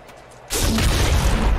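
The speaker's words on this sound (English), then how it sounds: "the other weapon we have is the grenade launcher, still. And again." A grenade launcher fires in the video game Nuclear Throne, a sudden loud boom after a brief quiet start, then a dense rumbling blast that holds steady to the end.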